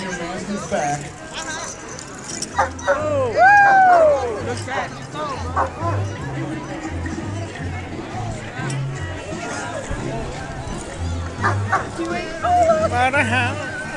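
Several dogs bark and yip repeatedly amid a crowd's chatter at a pet parade, with occasional whimpers and high-pitched whines cutting through the noisy outdoor babble.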